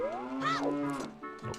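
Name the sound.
cows mooing in Zelda Ocarina of Time video game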